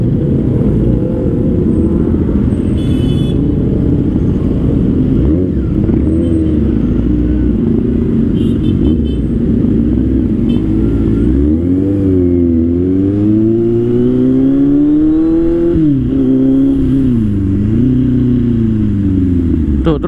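A Kawasaki Z800 800cc naked motorcycle on a test ride, its engine roaring loudly throughout, pitch climbing steadily through the gears with a drop at each shift, under heavy wind rush.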